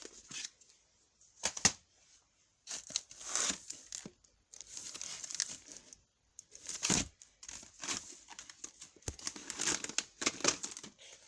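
VHS tapes are handled and shifted about, their plastic cases clacking and rustling close by in irregular bursts with brief quiet gaps.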